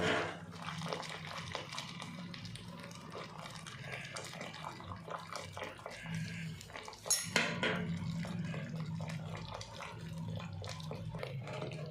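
Dried chickpea greens stirred in boiling salted water in a cooking pot, with continuous bubbling and scraping, occasional metallic clinks from the utensil, and a louder clatter midway.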